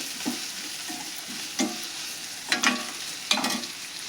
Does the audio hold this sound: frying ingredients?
yes